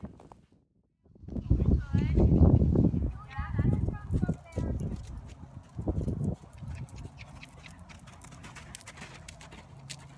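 A horse's hooves clip-clop in a steady rhythm as it canters on a lunge line around its handler, fairly close, with a person talking over the hoofbeats.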